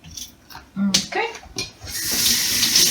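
Tap water runs while peeled potatoes are rinsed in a kitchen, starting with clattering and splashes, then settling into a steady loud hiss of flowing water.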